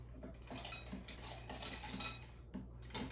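Sangria poured into glasses at a table, with clinks of glass and cutlery, soft liquid sounds and small knocks spread across a few seconds. No one speaks.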